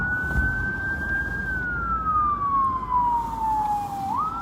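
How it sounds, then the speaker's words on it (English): A loud wailing siren sweeps slowly downward in pitch and then rises again, over the steady rumble of road noise. "I hear a siren."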